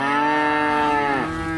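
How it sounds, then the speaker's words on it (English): A Hereford cross cow on an Arizona ranch lets out a single loud, close, drawn-out moo that drops in pitch near the end. "These are all Hereford cross cattle."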